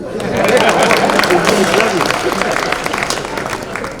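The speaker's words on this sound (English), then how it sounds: "I hope you please clap for me." Audience at a university-themed TETFund event clapping steadily for about four seconds, a dense, close crowd applause with voices mixed in.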